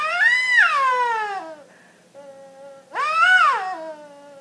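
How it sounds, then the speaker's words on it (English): A homemade popsicle stick harmonica, a reed instrument built from craft sticks, is blown in two long wavering notes that bend up and down in pitch with a short pause between them, close and fairly loud with no voices. "So that is your Popsicle Stick harmonica."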